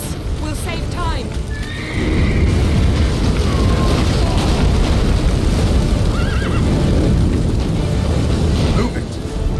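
A horse in The Witcher 3: Wild Hunt whinnies and neighs, with hoof clip-clops and deep booming rumbles beneath, loud and close, while voices speak over it.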